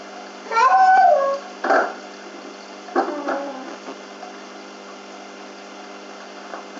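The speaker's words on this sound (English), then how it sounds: "Excuse my baby's noises in the background." A baby makes a few brief squealing, cooing cries in the background of a home kitchen during beer brewing, in short bursts separated by quiet.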